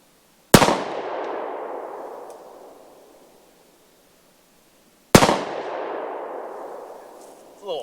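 Two sharp, loud gunshots from a Bond Arms 9mm Texas Defender derringer fired outdoors at a target about 20 yards out, each crack followed by a long rolling echo that fades over a few seconds.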